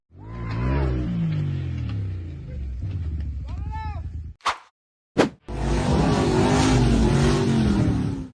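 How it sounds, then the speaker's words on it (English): A blue and white off-road buggy claws up a steep forest dirt slope, its engine revving hard in rising, wavering sweeps. The roar briefly cuts out and pops, then returns loud and sustained. "The blue and white buggy charged up the vertical dirt slope in the forest, lost momentum"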